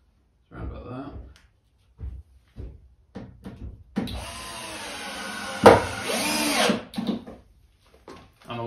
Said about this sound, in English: There's just a lot of screwing here.